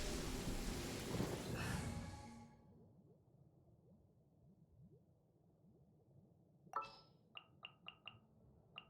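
Thunder rumbles loudly over steady rain in Genshin Impact, the roar fading after a couple of seconds into quieter rainfall, followed later by a sharp crack and a few short, evenly spaced clicks.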